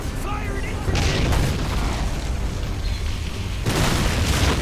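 Deep, heavy booms of naval gunfire in Men of War: Assault Squad roll one after another, loud and rumbling, with bursts of explosion noise swelling and fading.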